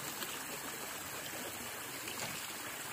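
The Mangkil river flows steadily, a soft continuous broadband rush of stream water with gentle trickling texture, fairly faint and unchanging, with no voices.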